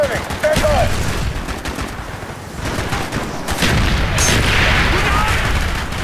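Rapid bursts of gunfire and booms from the video game Call of Duty Black Ops fill the scene loudly and continuously, with soldiers shouting over the shooting.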